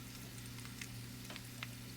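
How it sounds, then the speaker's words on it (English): Steady, quiet sizzling of bone marrow in a hot pan, with soft crackles and pops over a constant low hum. "You see that sizzle?"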